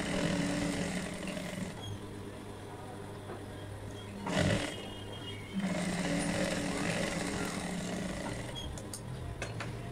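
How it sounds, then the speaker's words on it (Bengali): Sewing machine stitching one side of a pair of pajamas, a steady continuous mechanical whir with a low hum, briefly interrupted and then resuming, close and fairly loud. "এখন সেলাই করে দেখাচ্ছি"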